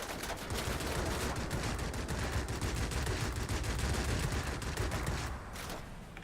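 A pair of aircraft cannons on an La-160 jet fighter in the video game World of Warplanes fire in a long, rapid, steady rattling burst, loud and close, stopping near the end.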